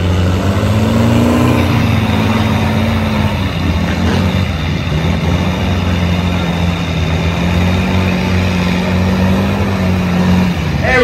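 A truck engine roars and revs continuously on a tug pad while pulling, loud and sustained heavy droning with shifting pitch, crowd noise faintly beneath.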